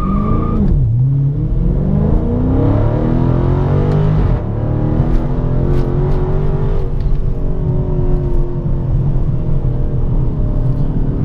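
A 485 hp car on 245 all-season tyres pulls away from a launch in second gear under light throttle, its loud engine note rising steadily and shifting once, close and continuous with no talk.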